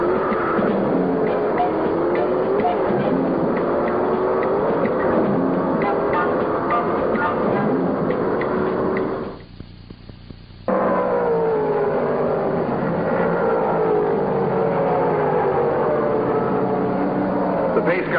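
Modified stock cars from 1968 circle the Martinsville track slowly under caution, a steady mass of engine drone with a commentator talking over it throughout, broken by a brief drop to near silence midway.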